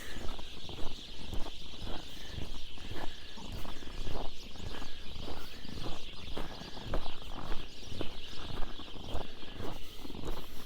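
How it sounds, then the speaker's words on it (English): Birds call and cluck repeatedly somewhere off in the distance, partly buried under a steady, noisy outdoor background, in Regina in February. "Never saw a bird, but I sure heard them."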